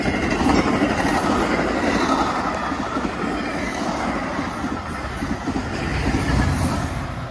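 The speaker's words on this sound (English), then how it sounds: "That was an eastbound Metra, probably headed from Aurora, Illinois to Chicago Union Station." Eastbound Metra commuter train 9408 passing the Highlands, Illinois station on the BNSF line: a loud, close, continuous rumble and rattle of rail cars rolling by, with faint wheel clatter throughout.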